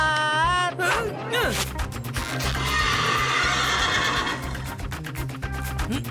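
Cartoon horse letting out a loud, wavering whinny at the start, followed by galloping clip-clop hoofbeats and busy cartoon sound effects, with no talking.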